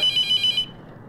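An electronic phone ringtone in the video game St. Peters Simulator trills in a short repeating pattern, fairly loud and close, then cuts off abruptly into near silence.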